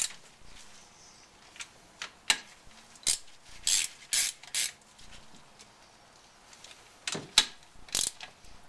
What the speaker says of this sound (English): Grab a 9/16 wrench socket and then snug them up.